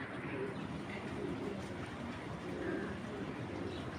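Black checker racing pigeons coo softly and steadily, a low murmuring flock nearby with no talk over it.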